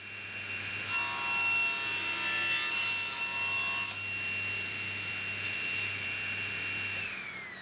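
A table saw with its blade tilted 15 degrees rips a reclaimed wooden board: a loud, steady whine of the spinning blade, a rougher cutting rasp through the first few seconds, then the motor winds down at the end.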